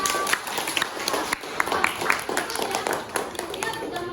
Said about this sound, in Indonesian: Tepuk tangan untuk Sylvia